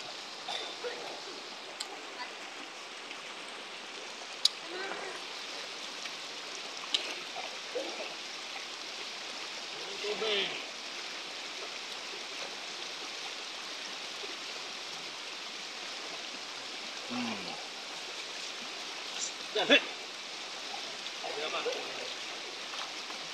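A steady broadband wash of river water flows throughout during a riverside picnic, with a few faint voices and small clinks now and then.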